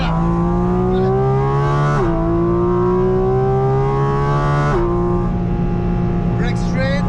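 Porsche GT4 RS flat-six screaming at full throttle on the Nordschleife, a loud continuous high-revving wail with two sharp upshift dips, close and steady, with an instructor's voice talking over it.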